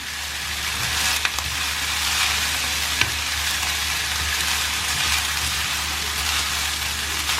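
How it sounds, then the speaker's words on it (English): Beetroot rice being gently turned with a spoon in a pan, with a steady close sizzle and faint scraping strokes throughout, a couple of brief clinks standing out. "I'll use this spoon so that I can gently turn the rice"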